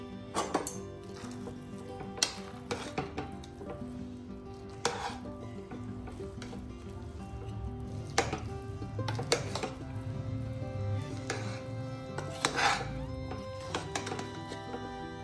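Coriander tempering for avarekalu rice bath sizzles quietly in a pan while a spoon stirs and knocks against the metal in scattered sharp clicks and scrapes, close but soft, with no one talking.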